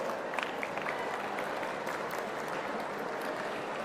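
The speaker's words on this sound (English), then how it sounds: "a huge cheer for the student community over here." A crowd of students at a Quantum Valley foundation-stone ceremony cheers and applauds, a dense, sustained wash of clapping heard from within the audience.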